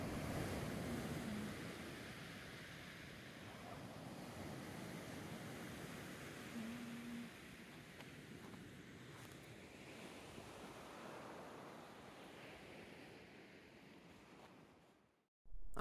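Waves on Myrtos Beach, Kefalonia, Greece, a soft steady wash of surf with light wind rumble against the microphone, distant and gentle, cutting off abruptly at the very end.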